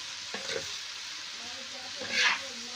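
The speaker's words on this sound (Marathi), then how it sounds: "चांगले मिरची आणि ते हळद जिरे मिक्स करून घ्यायचे तेलामध्ये फोडणीच्या" Radish sizzles in hot oil tempered with chilli, turmeric and cumin for a village-style radish dish, with short stirring clatters and a brief, louder burst of frying hiss near the end.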